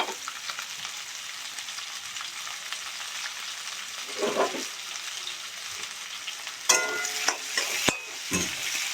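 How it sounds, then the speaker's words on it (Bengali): Onion and capsicum fry lightly in a pan. A soft, even sizzle runs throughout, with a few louder scrapes and knocks from stirring near the end, and no talking. "সঙ্গে কেটে রাখা ক্যাপসিকামটাও আমি দিয়ে দেব। দুটোকে আমি হালকা ফ্রাই করে নেব।"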